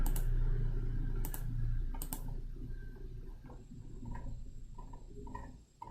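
Typing on a computer keyboard while entering a domain name to check, a few quick bursts of close clicking keystrokes followed by softer scattered taps.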